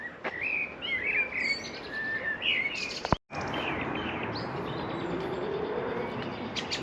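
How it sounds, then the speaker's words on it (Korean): Birds chirp and sing steadily along a hillside walking path in Plovdiv, Bulgaria, with bright repeated calls and a soft cooing over constant outdoor background noise, broken briefly by a short gap. "그리고 새소리가 장난 아니야 새소리가 계속 들려"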